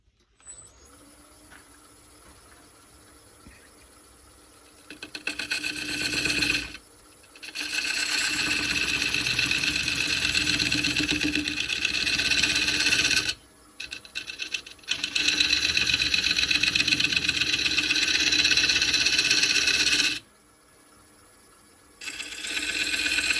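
Skew chisel cutting an ash live edge bowl spinning on a wood lathe, loud sustained scraping and hissing passes of several seconds each, separated by short pauses where the cutting stops.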